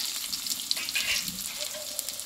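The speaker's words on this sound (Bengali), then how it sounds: "আর দেবো এখানে বড় সাইজের পেঁয়াজ কেটে নিয়েছিলাম, দিয়ে দেবো।" Large chopped onions hit hot oil with crushed garlic in a pan, a close, steady hiss and crackle of frying with a few light stirring scrapes, no talking.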